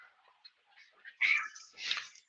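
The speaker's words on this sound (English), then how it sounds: "my cat's fighting over here" A house cat fighting indoors, giving a few short yowls and then a loud, harsh screeching burst with a second wail close behind, heard nearby with no talking over it.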